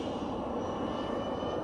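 An F-22 Raptor model RC jet with a five-blade ducted fan flies at a park, giving a steady, broad whooshing roar that holds at constant loudness throughout, with no talk.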